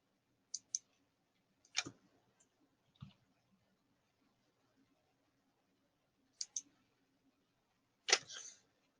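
Sparse computer mouse clicks sound close and crisp, some as quick doubles, spaced apart by long near-silent gaps.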